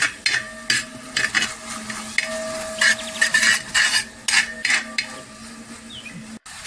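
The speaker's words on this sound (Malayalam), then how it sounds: "അതിനകത്ത് ഒരു തവി ശർക്കര ഇങ്ങനെ ഒഴിച്ചു കൊടുക്കുക" Steady close stirring and scraping in a pan as jaggery is poured into a sizzling beetroot papaya halwa, with repeated rhythmic scrapes over a continuous frying hiss and no talking.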